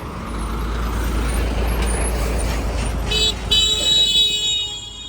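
Small car horns toot repeatedly in busy Vietnamese street traffic, with a steady low roar of engines and trucks underneath and a cluster of short, bright horn blasts toward the end.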